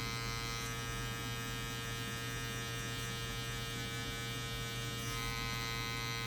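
Electric hair clippers buzz steadily and close up during a mid taper haircut, an unbroken hum with no talking.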